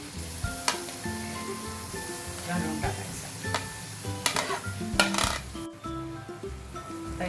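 Chopped onion frying with cumin and asafoetida in a large pot of pav bhaji for 25 people, a steady sizzle with occasional clinks and scrapes of stirring, with a voice talking over it.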